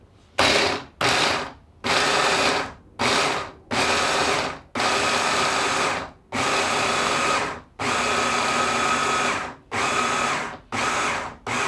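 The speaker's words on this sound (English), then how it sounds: "This is our tiny little food processor." A tiny food processor blending carrot top pesto in a home kitchen, run in about a dozen separate pulses of whirring motor, some short and some held for a second or more, with brief silences between them.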